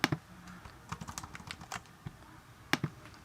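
Fast, light keystrokes on a Mac computer keyboard, an irregular run of soft clicks with a few louder taps, quiet and close, no voices.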